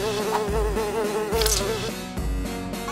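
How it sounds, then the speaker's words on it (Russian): A housefly buzzes steadily and close throughout, its whining hum wavering in pitch, with brief background music swells and soft thuds underneath. "Фу, наглая муха"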